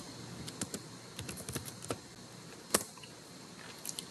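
Light, irregular keystrokes tapping on a computer keyboard, close and quiet, a scattered run of clicks with one sharper key strike near the end.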